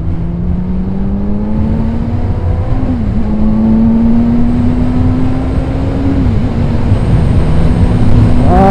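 A rider's own motorcycle with a newly redone seat hums steadily up close, its engine note slowly climbing and dipping through gear changes, continuous road roar underneath without any talk.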